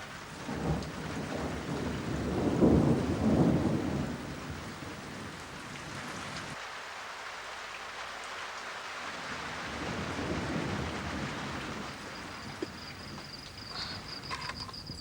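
A rainstorm with rolling thunder: a low rumble swells and fades over steady hissing rain, continuous and fairly quiet, with no voices.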